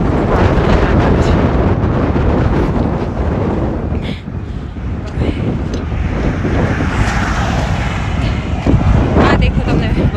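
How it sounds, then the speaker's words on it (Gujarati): Strong wind buffets the microphone outdoors on a roadside walk, a loud, continuous roaring rumble that dips briefly midway and then surges again. "બિકોઝ ઓ માય ગોડ બહુ જ પવન છે."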